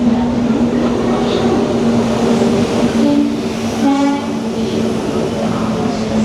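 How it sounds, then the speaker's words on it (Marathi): Train 09057 from Panvel to Gokarna rumbles into the station close by with a steady low hum, a few brief horn-like tones sounding midway, and faint voices underneath. "फायनली आपली ट्रेन आले"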